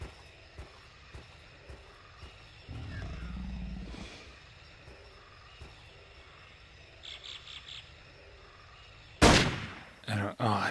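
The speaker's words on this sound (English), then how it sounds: "Two shots." Two loud gunshot blasts ring out late, a sharp crack followed by a second shorter report, after a stretch of low ambient game sound with faint rumbles, in the video game Jurassic Park: Trespasser.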